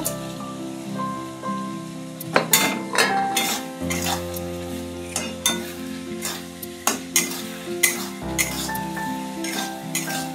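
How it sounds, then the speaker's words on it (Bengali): Giant river prawns and spices sautéing in a pan, with loud sizzling and frying under repeated scraping stirs and metallic clinks of a utensil against the pan, heard up close. "এখন এই গলদা চিংড়িগুলো দিয়ে একটু মশলাগুলো কষিয়ে নেব।"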